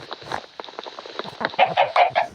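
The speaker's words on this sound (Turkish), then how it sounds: "Hadi tavuklar, tavuklar dans edin tavuklar" Chickens cluck in a block-building survival video game, a quick run of short clucks and calls close up, growing louder and more regular toward the end, with no speech over them.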